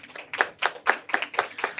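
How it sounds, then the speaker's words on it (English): Audience members at a conference session clap for the moderator in a sparse, evenly spaced run of individual claps, fairly faint, with no talk over them. "Can we have a huge round of applause for him?"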